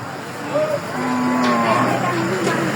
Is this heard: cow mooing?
yes